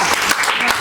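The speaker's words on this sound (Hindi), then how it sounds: "तालियां भाई जोर से।" Audience at an Inner Wheel Club celebration in Ghaziabad claps loudly and closely in a dense burst of applause, with faint voices mixed in.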